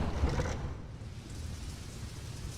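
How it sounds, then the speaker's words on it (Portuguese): Steady rain falls on a stormy night in a medieval street within a video game, a dense even hiss with a slightly louder patch at the start and no voices. "Está chovendo."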